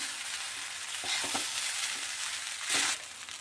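Flattened rice pulao with fried vegetables and a little ghee is tossed in a pan, a quiet continuous sizzle broken by a few soft scraping stirs and a louder scrape near the end, with no talking.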